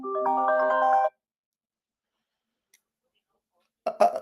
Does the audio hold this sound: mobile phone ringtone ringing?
yes